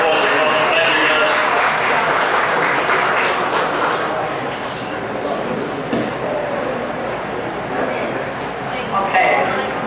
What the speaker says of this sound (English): we just give the Captain George, and Inspector Frank a round of applause